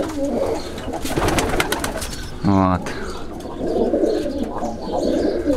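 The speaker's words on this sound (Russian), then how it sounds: "Вот такие симпатичные голуби." Tajik (Dushanbe) breed pigeons coo among rustling and busy background noise, with someone speaking briefly nearby; a short, clear cooing burst stands out midway through.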